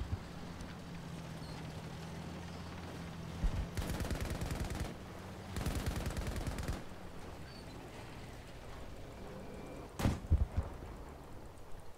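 Cannon fire booms from a naval gun in the video game Battlefield 2042, several heavy bursts in quick succession over a steady background rumble, including one sharp close blast near the end.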